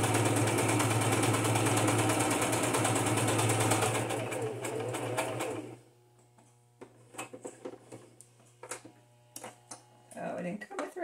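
A sewing machine stitches pink thread slowly around the corners of junk journal cards, a steady whirring drone for several seconds, then short stop-start bursts and clicks as it edges around each corner.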